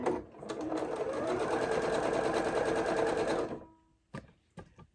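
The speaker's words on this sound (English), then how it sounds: "I'm going to start sewing at" Domestic sewing machine running a seam in black thread at a quarter-inch allowance, a close, steady buzzing whir for about three seconds that stops, followed by a few light clicks from handling the machine.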